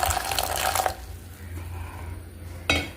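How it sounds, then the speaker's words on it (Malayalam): Boiled water is poured into a container holding a dish-washing sponge, a short close splashing pour that stops after about a second, followed by quiet and a faint knock near the end. "നന്നായി തിളപ്പിച്ചെടുത്ത വെള്ളം ഇതിലേക്ക് ഒഴിക്കുക"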